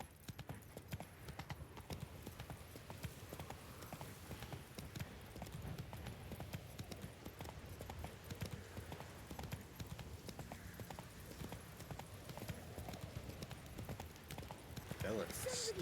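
Roach the horse gallops in The Witcher 3, hooves clip-clopping in a quick, steady rhythm at low volume beneath game ambience, with occasional talk over it.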